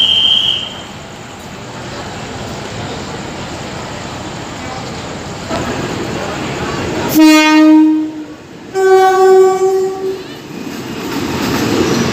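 Diesel railcar express train 71, led by car KF1228, arrives at Sisaket station in Thailand: a loud two-tone horn sounds twice, standing out over steady rumble and station ambience.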